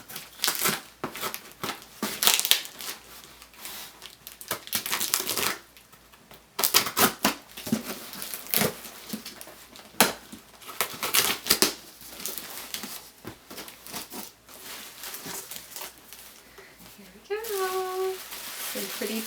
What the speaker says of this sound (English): Some pretty tissue paper.